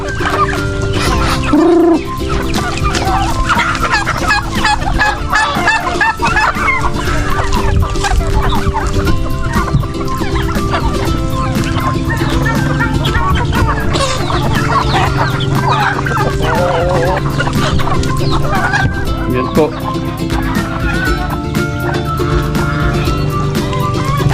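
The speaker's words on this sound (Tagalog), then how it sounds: "Dito po tayo sa may pinag-aalagan ko ng mga ano manok saka pato, pabo." A busy poultry yard full of overlapping clucking chickens, ducks and gobbling turkeys, a steady dense chorus of birds close by with no pauses.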